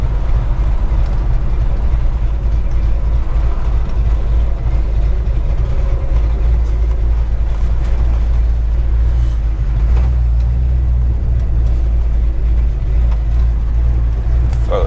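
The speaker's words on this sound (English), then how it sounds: "I think I'm going to try to do a first gear roll here." A 1961 Pontiac Catalina with a 421ci V8 and four-speed manual, pulling in first gear, gives a loud, steady, deep engine roar held close throughout with no talking.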